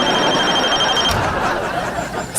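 A telephone rings with a steady high electronic trill for about a second, then cuts off, leaving busy room noise behind.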